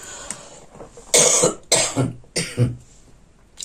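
Three or four harsh, close coughs in quick succession, each a sharp burst, with a quieter throat sound at the start.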